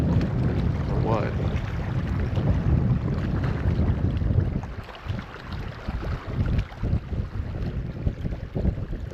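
Wind buffets the microphone while fishing outdoors, a steady rough rumble that eases midway, with water and faint movement behind it.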